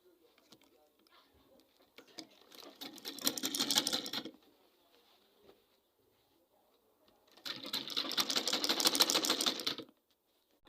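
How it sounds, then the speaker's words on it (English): Sewing machine top stitching a short gown with pocket, running in two sustained bursts of about two seconds each, separated by a quieter gap with faint handling noise. "I'll be doing the top stitching now."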